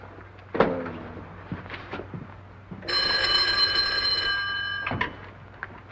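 An old-fashioned telephone bell in a 1939 Chinatown mystery film rings in one sustained metallic burst of about two seconds, loud and close, with brief room noise and faint movement around it.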